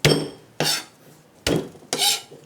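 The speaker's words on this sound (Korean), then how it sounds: "이런 식으로 그냥 저는 마늘 씹히는 게 좋으니까 이 정도만 잘라주세요" A knife chops garlic on a cutting board in four sharp, separate strokes, each a close, loud knock with a brief ring, with quiet pauses between.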